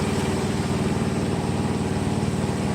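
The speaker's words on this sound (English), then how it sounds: "Sorry about the noise, guys. I'm right next to the APU." Truck auxiliary power unit engine running steadily at close range, a loud, constant droning rumble with no variation and no voices over it.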